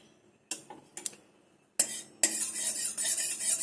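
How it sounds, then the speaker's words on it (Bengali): Metal kadai (wok) set onto a gas stove: a few sharp clanks and knocks, then a loud steady burner hiss that continues to the end, with no talk. "কড়াইটা চাপিয়ে দিলাম।"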